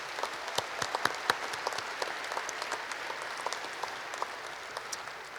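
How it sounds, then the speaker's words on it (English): A ceremony audience applauds the class of 76, dense continuous clapping from many hands with a few sharper nearby claps standing out. "Please give the class of 76 a round of applause."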